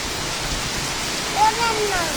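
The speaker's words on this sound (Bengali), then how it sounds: "বৃষ্টি হতেছে খুব জোরে" Heavy rain pouring outside a balcony makes a constant, full rushing hiss, with a few faint voice-like sounds rising briefly over it near the end.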